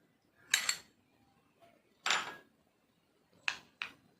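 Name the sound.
mixing milk into a face pack in a bowl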